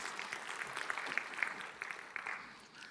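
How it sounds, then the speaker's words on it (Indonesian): A church congregation at a Sunday service claps together in a brief, moderate burst of scattered hand claps, heard at a distance in a reverberant hall. "Kamu tepuk tangan boleh? Tepuk tangan."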